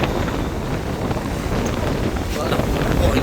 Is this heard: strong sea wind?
yes